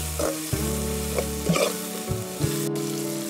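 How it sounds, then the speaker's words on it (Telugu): Turmeric stirred into hot oil in a pan for a village-style dhaba potato kurma, close frying sizzle with repeated spoon-scraping strokes and clanks, no voices. "ఒక చెంచా పసుపు, మాడిపోకుండా కొంచెం ఉడికేదాకా కలుపుకోవాలి."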